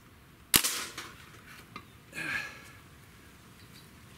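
A single sharp crack from a Crosman DPMS full-auto BB air rifle fired at a target, loud and close, followed by quieter rustling and a faint breathy sound.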